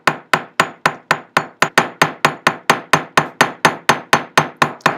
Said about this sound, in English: you have to kind of hammer on the other side to make it even